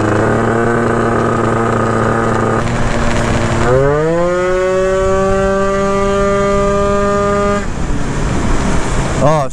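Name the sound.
Derbi GP1 with 94cc Malossi engine riding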